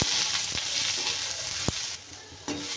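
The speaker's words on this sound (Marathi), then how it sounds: "आता आपण याच्यामध्ये घालूया थोडंसं तेल, म्हणजे आपला कांदा छान लवकर भाजला जाईल" Onion frying in oil in a pan sizzles with a constant bright hiss, broken by a few sharp scrapes of stirring, close and alone.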